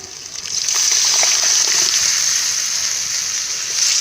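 Cooked cowpeas being added and stirred into a pot of bottle gourd sambar, giving a steady wet sloshing and gurgling that stays close and fairly loud for the whole stretch, with no talking.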